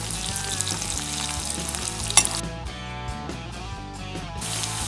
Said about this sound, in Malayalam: പച്ചമുളക് ആദ്യം എണ്ണയിൽ മൂപ്പിച്ചു